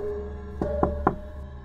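Three quick knocks on a bathroom door, evenly spaced and fairly close, over a steady low hum, used as a sound effect in a Thai ghost story.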